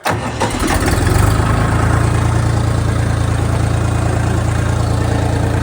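A DMTZ 244 tractor engine cranks and fires, then settles into a steady, loud idle with a deep low rumble, heard close and alone.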